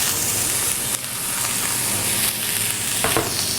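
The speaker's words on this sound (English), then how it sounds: "And while those just cook just slightly" Diced red, yellow and green peppers, red and yellow onion and cherry tomatoes sautéing in olive oil, giving a loud, dense, continuous sizzle close up with faint stirring scrapes and no voices.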